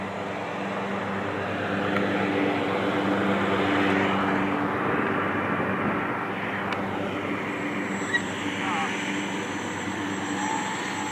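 Small electric E-flite mini Ultra Stick RC plane flying, a faint buzzing whine that rises and falls as it passes, under outdoor wind noise and a nearby low hum, with people talking.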